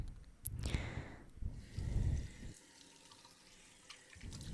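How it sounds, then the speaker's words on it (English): Water runs from the tap of a salon shampoo sink in a steady, close hiss, with brief surges and a quieter stretch before the flow picks up again at the end. "let's just go ahead and turn this water on"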